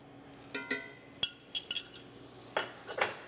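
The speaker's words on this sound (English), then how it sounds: "We'll take a teaspoon of butter and go right into that skillet" Spoon clinking against a hot skillet while adding a teaspoon of butter, a handful of sharp metallic taps and chinks spaced irregularly, close and clear with no talk.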